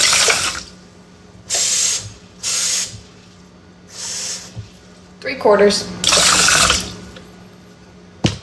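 Water runs from a tap into a pot of rice in several separate bursts of splashing fill, each a second or so long, with a person talking briefly between them.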